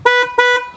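Two short honks from a 2015 car's horn with a broken low-tone horn, close and loud, with a thin single-toned sound.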